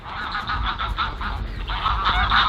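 Domestic ducks honk and quack continuously outdoors on a farm after being let out on a fine, dry day, several birds calling over one another at close range with steady overlapping cries and no speech.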